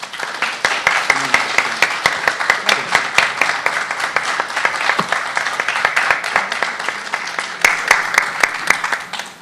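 After a literary talk at an Ortega y Gasset literary conference, an audience claps steadily for several seconds, a dense even patter of many hands at moderate loudness with a faint voice underneath.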